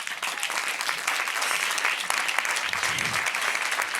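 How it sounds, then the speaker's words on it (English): A conference crowd at a food forum's kitchen stage claps for an incoming speaker, a steady, lively round of applause filling the room throughout with a brief low murmur partway through. "please give him a hot, huge foodie round of applause"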